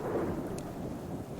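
Heavy storm in the survival game Subsistence, a broad loud rumble of thunder and driving rain that fills the whole moment without any voice over it.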